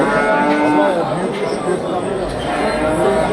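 Cattle moo loudly and repeatedly inside a covered livestock market in Çubuk, Turkey, over a constant hum of crowd chatter and barn noise.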